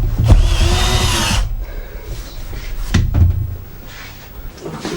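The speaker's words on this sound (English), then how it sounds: "we can simply screw him in from the back." A power drill drives screws into the back of a wooden two-drawer cabinet: one long whirring burst, then a second shorter one, with some clunks between.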